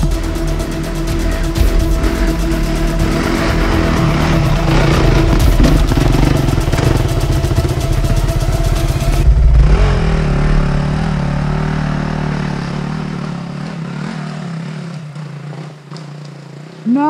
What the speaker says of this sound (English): First climb on the big bike.